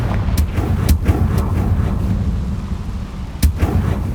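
A Confringo fire spell explodes in Hogwarts Legacy, with sharp blasts and crackling bursts over a dense rumbling low roar, loud and close, with a strong hit near the end.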